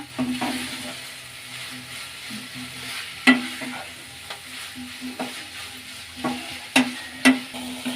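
Onion and coriander leaves frying with oyster mushrooms in a pan, a quiet, soft sizzle with occasional sharp clinks and scrapes of a spoon as they are mixed.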